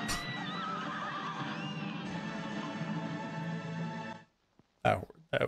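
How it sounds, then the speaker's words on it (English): Horse or donkey neighing in the video game Cuphead, a loud whinny with wavering pitch sweeps over busy game sound, cutting off abruptly, followed by brief bursts of noise. "That was a donkey horse"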